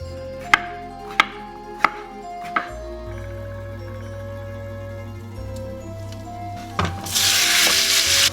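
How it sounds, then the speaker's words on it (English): A knife chops fresh little tomatoes into quarters on a board for a simple tomato sauce: four crisp, evenly spaced chops, then steady tonal background music carries on alone. "quarter all these tomatoes and add them in so that they sort of stay in quarters"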